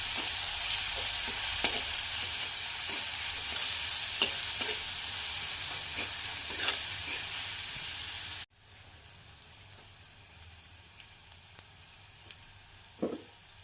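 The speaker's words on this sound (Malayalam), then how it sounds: "ഇനി ഒന്ന് ഇളക്കി കൊടുക്കണം" Drumstick leaf curry with cut red chillies is stirred in a hot pan, a steady sizzle with intermittent spoon scrapes that cuts out partway, leaving a quieter stretch with occasional clicks and a final clink.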